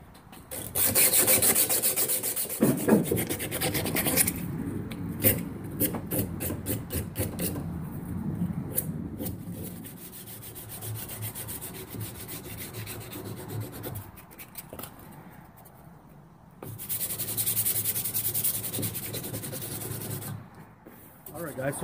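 A strip of 120-grit sandpaper rubs back and forth over the corners of a handmade saw-blade knife handle, close and steady, in sustained raspy strokes with brief pauses.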